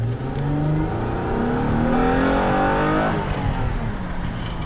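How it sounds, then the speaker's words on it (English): A 2003 Acura 3.2 TL Type S V6 engine revs hard into VTEC, its pitch climbing steadily to a loud roar, then dropping off as it shifts, with no talking. "The VTEC roars."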